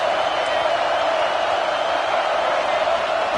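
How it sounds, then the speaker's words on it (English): A football stadium crowd at a Texas A&M versus Oklahoma game roars steadily, a dense, loud wash of cheering that holds constant throughout. "this crowd is turning it up a notch"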